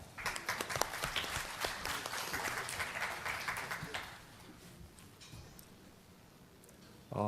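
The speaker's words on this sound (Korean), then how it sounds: "그러면 한병도 원장님을 우리 박수로 맞아주시기 바랍니다." An audience at a dental implant symposium claps to welcome a speaker, fairly quiet and distant, with scattered crisp claps for about four seconds before dying away into near silence.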